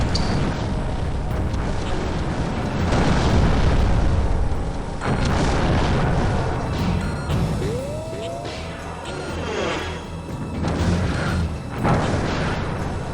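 Booming explosions from a destroyed enemy target in the Earthsiege 2 combat game, with heavy blasts and rumbling debris that roll on continuously. A sharp burst stands out midway.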